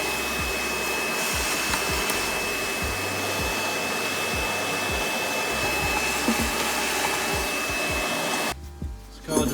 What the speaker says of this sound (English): just finished vacuuming the spark plug gallery here